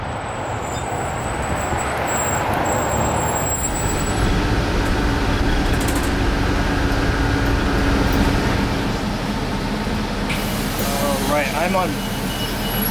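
Inside an eastbound route 160 city bus in the Tri-Cities, a steady low engine rumble and road noise fill the cabin throughout, with faint rattles and a brief higher tonal whine near the end.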